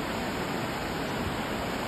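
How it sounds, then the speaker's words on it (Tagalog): Waterton Falls waterfall rushing in winter amid snow, a dense, steady roar of falling water with no breaks, even and continuous at moderate loudness. "dito tayo sa Waterton Falls Lake"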